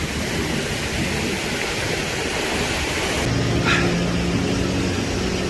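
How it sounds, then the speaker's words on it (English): A waterfall in Mt. Baker-Snoqualmie National Forest roars as a loud, steady, broadband rush of falling water, close and unbroken, with no voices over it. "this is easily one of the most magical waterfalls I've ever seen."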